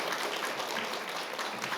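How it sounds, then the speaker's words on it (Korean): Applause from a forum audience at an education conference session, a short dense burst of clapping filling the hall at moderate level. "세 번째 큰 박수 부탁드리겠습니다"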